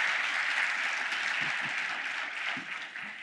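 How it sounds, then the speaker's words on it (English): A luncheon audience at the Port of Los Angeles State of the Port event gives sustained, dense applause for the Pacific Merchant Shipping Association, fading slightly toward the end. "A round of applause."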